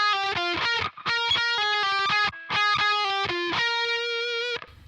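Electric guitar plays a riff in the 12th position with distortion, in fast picked bursts of sustained, ringing notes, loud and close, with short gaps between phrases and no talking.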